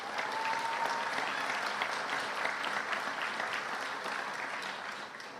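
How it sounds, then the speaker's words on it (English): A round of applause fills a police promotions ceremony hall, a dense, even wash of many hands clapping that holds steady and tapers slightly at the end, with no talking over it. "Let's give her a round of applause."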